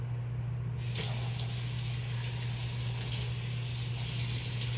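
Steady running tap water at a sink, a continuous broadband rush beginning almost immediately and holding at an even level, with a low hum beneath, while small G-Shock DW5600 watch parts are rinsed of soap bubbles.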